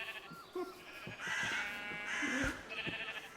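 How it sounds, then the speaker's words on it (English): Minecraft sheep bleating several times in a row, a couple of drawn-out wavering bleats standing out clearly over faint background game sounds. "All our sheep."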